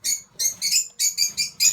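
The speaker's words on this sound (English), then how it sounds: "my lovebirds are very, very squawky today" Pet lovebirds squawking indoors in a rapid series of about seven sharp, shrill calls close by, each a short harsh burst separated by brief gaps.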